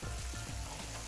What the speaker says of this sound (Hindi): और इसकी अच्छे से हमें भुनाई करनी है